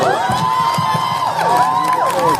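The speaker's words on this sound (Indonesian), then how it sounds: "Tepuk tangan untuk kita semua." An audience at a traditional arts and theatre performance in Lampung Barat cheers loudly, with rising and falling voices and whistle-like shouts riding over a continuous crowd roar.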